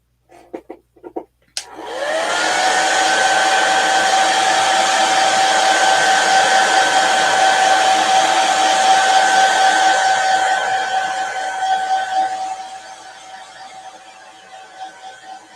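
A hair dryer runs steadily for about ten seconds, drying chalk paste on a stencil during a Chalk Couture door-round craft project, then winds down and fades out; a few clicks come just before it starts.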